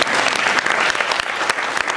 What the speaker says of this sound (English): I swear, you can applaud, you deserve it